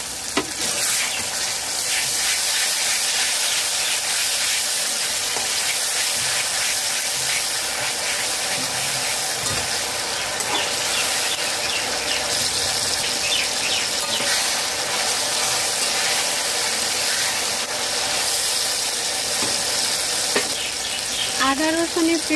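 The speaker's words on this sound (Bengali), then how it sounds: "আদা রসুনের পেস্ট দেওয়ার পর 3 মিনিট কষিয়ে নিয়েছি" Chopped onions and ginger garlic paste frying in a pan for a chicken dish: a loud, steady sizzle runs throughout, with occasional scraping from stirring.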